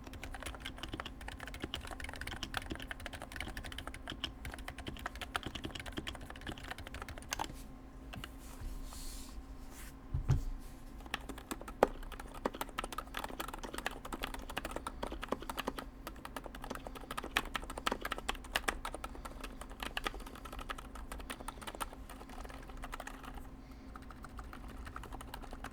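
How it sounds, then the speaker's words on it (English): A mechanical keyboard fitted with URSA PBT keycaps clacks through a long, fast run of typing, keys striking in dense, uneven bursts with a short pause partway through. "So let me just do a quick typing here."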